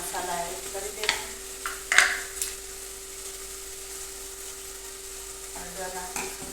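Tomatoes and onions fry in a pan for masala Maggi, a steady soft sizzle broken by a few scraping stirs and clinks of the spoon against the pan.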